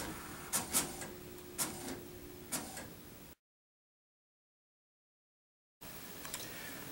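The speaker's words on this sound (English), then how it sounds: "and it's going to print the job" An HP printer connected to a spirometer docking cradle prints a test report, giving faint rhythmic mechanical ticks and short clacks in a quiet room, broken by a stretch of silence.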